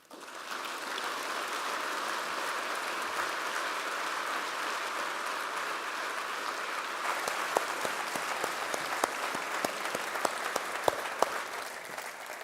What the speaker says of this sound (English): Please, another round of applause for Mike DiPiano.